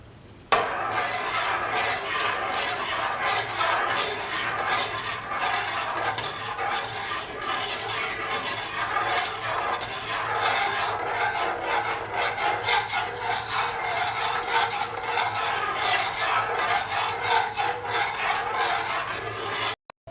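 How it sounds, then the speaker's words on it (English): Milk being stirred continuously in a pan for semolina kheer, a steady close rubbing and scraping of the spoon against the pan that runs unbroken for the whole stretch. "Keep on stirring until the milk boils."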